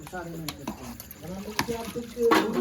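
Pots and dishes being scrubbed and washed with water at home, with scattered clinks and splashy scraping, fairly close, under someone talking.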